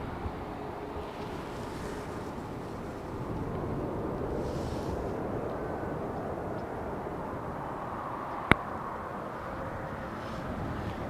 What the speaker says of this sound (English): next plane about to touchdown